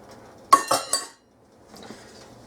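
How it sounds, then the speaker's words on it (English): A utensil clinks three times against a pot while brown sugar, white sugar and evaporated milk are mixed for German chocolate cake frosting, followed by quieter, softer scraping and stirring. "I'm just going to mix this up."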